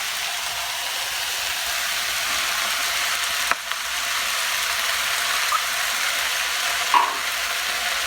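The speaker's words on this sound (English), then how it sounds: "Gonna give it just a little stir." Wilted spinach and chilies sizzle in a skillet for a quinoa enchilada dish, a steady close frying hiss broken by a few light clinks of a utensil stirring the pan.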